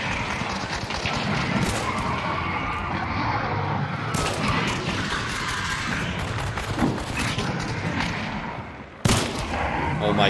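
Gunfire in the Hunt Showdown video game: a dense, continuous clatter of shots with sharp louder bursts near the start, middle and end, no voices heard.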